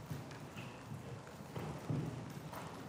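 Circus horse hooves striking the soft ring surface during a riding-school act, a steady run of muffled clip-clop thuds at moderate distance with a brief stronger burst near the middle.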